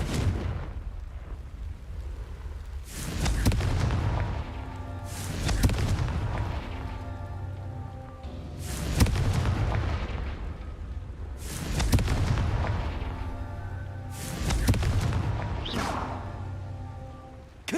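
Confringo blasting spell in the video game Hogwarts Legacy, five heavy booming explosions spaced a few seconds apart, each with a rumbling decay over a low background of game ambience.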